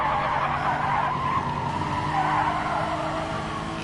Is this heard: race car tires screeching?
yes